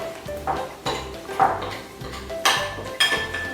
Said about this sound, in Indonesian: Kemudian bisa kita aduk-aduk ya sampai tercampur merata.